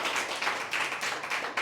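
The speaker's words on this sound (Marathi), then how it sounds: "मी आणि सरगम टॅलेंटरी आणि आपण सगळे एकदा जोरदार टाळ्या होऊन जाऊ द्या अरुणसाठी." Audience at an open mic clapping for the artist Arun, a dense steady patter of many hands, close and fairly loud for a short stretch.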